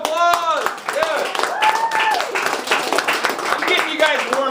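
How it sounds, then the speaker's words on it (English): Audience at a class show clapping, quick irregular hand claps mixed with whooping and cheering voices, close and lively throughout. "Give yourselves a round of applause"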